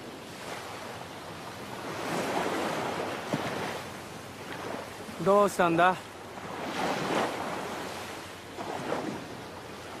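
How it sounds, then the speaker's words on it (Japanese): Waves wash in and out in slow, broad swells of surf with a breezy hiss, while a voice speaks briefly in the middle. "波の音聞いてたら"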